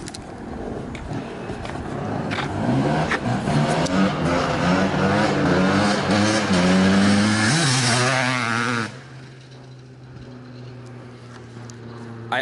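A 1997 KTM 360SX dirt bike engine revs loudly and close, its pitch climbing and wavering through repeated throttle blips before cutting back to a steady lower idle near the end.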